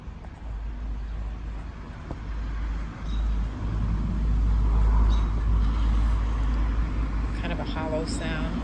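Cars repeatedly driving by on a road, a low rumbling traffic wash that swells as vehicles pass, with a faint voice present in the background.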